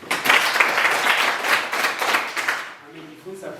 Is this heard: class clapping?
yes